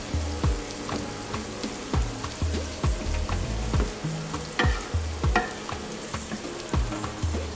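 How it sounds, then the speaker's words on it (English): Shrimp fried rice sizzles loudly in a hot pan while being stirred, with a constant frying hiss broken by rhythmic scraping and clanking strokes of the utensil. "I can see already like it's already frying."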